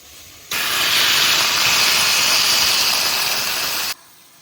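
Water poured into a hot pan of fried potatoes with cumin, coriander, dried chilli and ground pepper sets off a loud, steady steamy sizzle and hiss that starts abruptly, holds for about three seconds, then cuts off.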